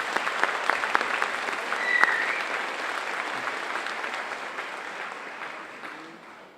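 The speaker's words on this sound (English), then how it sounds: "Please recognize them with a round of applause." An audience at an evening high school equivalency graduation ceremony at a college gives a sustained round of applause, a dense wash of many hands clapping that tapers off toward the end.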